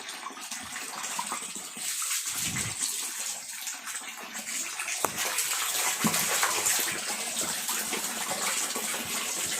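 Water released into a backyard catfish pond, a steady close rushing gush that runs without a break and grows slightly stronger partway through, with no voices.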